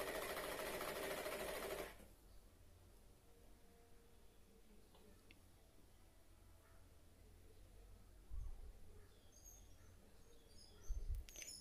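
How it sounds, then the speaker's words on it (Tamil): A sewing machine stitching a decorative pillow runs in a loud, fast whirring burst for about two seconds, then stops, leaving a quiet room with faint small taps and chirps. "இப்போ தைச்சி காமிக்கிறேன் பாருங்கள்."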